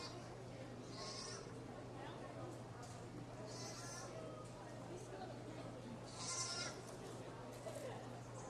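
Goats bleat repeatedly at a livestock show, several short wavering calls rising over a steady hum and crowd murmur, with people talking throughout.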